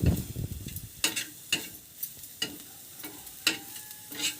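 Hendua slices frying in hot oil in a pan in a village kitchen, with a steady soft sizzle punctuated by regular sharp scraping stirs roughly every half second, close and fairly quiet with no talk.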